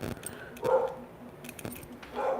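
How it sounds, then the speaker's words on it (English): A house dog barks at a UPS delivery driver approaching the house, a few sharp barks heard from a short distance with some faint clinking in between. "there's my dog barking at the UPS guy who is coming up to our house"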